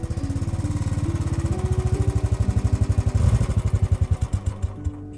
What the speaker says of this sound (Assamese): সৌৰভে বাইকখন জুইকুৰাৰ সন্মুখত ৰখালে।